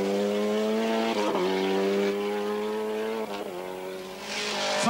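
Mazda rally car racing in the 1990 Rallye du Portugal, a close, loud high engine note holding through the revs, dipping at two gear shifts and climbing again.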